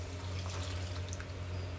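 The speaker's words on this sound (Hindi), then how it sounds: "अब इसमें मैं पानी डाल दूंगी" Water pours steadily into a pan of matar paneer masala as it cooks, a continuous close splashing and gurgling rush filling the whole moment with no speech.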